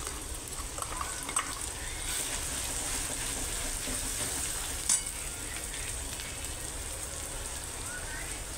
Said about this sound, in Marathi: हे वाटण टाकून घ्यायचं.